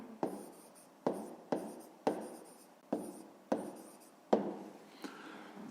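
A pen writes the answer to a math problem on paper, close up, in a series of about eight distinct scratchy strokes that each start sharply and fade, with short pauses between them.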